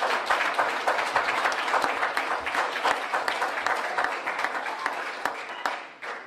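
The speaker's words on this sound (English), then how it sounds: "Y'all give yourself a round of applause." A crowd applauding steadily, many hands clapping in a dense, continuous burst that holds strong throughout, then begins to taper at the very end.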